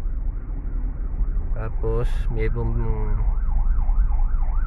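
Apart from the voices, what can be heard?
ambulance siren passing on the street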